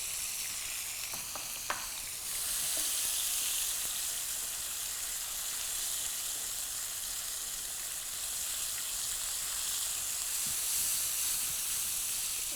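Asafoetida and dry spices hitting hot oil, a few light crackles followed by a steady, bright sizzle that carries on without a break.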